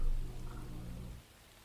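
Rain ambience plays as background during a tabletop role-playing session, a steady moderate wash with a low rumble underneath that drops away abruptly just after one second, leaving a faint hiss.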